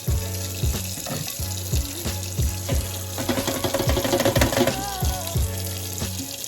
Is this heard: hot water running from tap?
yes